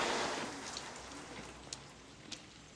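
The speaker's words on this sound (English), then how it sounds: "Right now, it's pouring rain." Heavy pouring rain in a movie scene makes a steady wash of hiss that eases slightly over time, with a couple of faint sharp ticks near the end.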